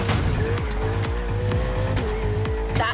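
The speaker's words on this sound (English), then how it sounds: "Ferrari 488." A Ferrari 488 in The Crew Motorfest roars at high speed, its engine droning loud and steady while tires squeal repeatedly in short rhythmic bursts, with a rising whine running through.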